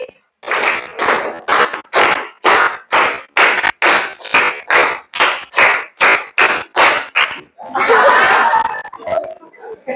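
A classroom of students claps a quick five-beat pattern in rhythmic bursts, loud and close, followed by a burst of laughter and chatter at the end.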